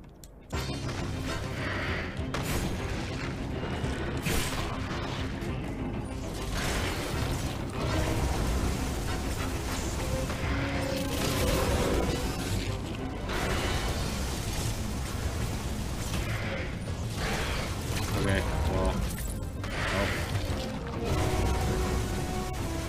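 Missile fire and combat in the Metroid Dread game, a dense continuous wash of booming blasts, bursts and crashes running for over twenty seconds without speech.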